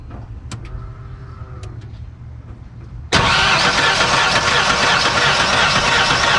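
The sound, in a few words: pickup truck engine starting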